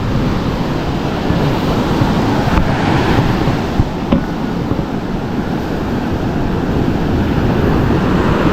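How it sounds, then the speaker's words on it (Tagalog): Strong ocean surf at Bukana roars continuously, heavy waves crashing with a steady wash and some wind buffeting the microphone. "Yung alon sobrang lakas"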